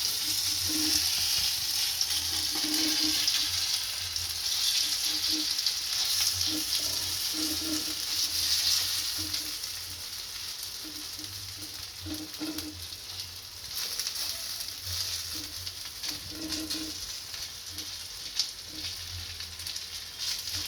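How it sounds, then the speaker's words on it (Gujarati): Batter of puffed rice (murmura) and semolina (suji) sizzles steadily in hot oil, a continuous close crackling fry with faint clinks, no talking heard. "આપણું તેલ સારી રીતના ગરમ થઈ ગયું છે, આની અંદર બેટર નાખીશું"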